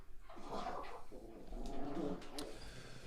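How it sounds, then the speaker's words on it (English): Several dogs growl and grumble at each other in a squabble over dinner, low snarls mixed with whimpers and short yips, moderately close and continuous for a few seconds with no talk. "My dogs are arguing about dinner."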